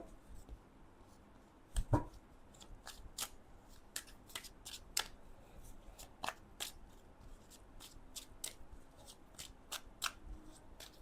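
Tarot cards being shuffled by hand, a steady series of quick, crisp riffling snaps spread across the stretch, close but quiet, with one louder knock near the start.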